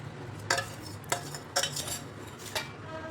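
A spoon scraping and clinking against a vessel as raw mango pieces are stirred into homemade pickle masala with cooled oil, with about five sharp metallic knocks spaced through a quiet stretch.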